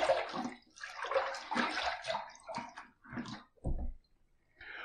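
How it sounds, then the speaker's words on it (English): Tap water runs and splashes as a Fine Accoutrements DE5 open comb safety razor is rinsed mid-shave, close and fairly loud, in uneven surges with brief breaks. "first pass done. Let's rinse."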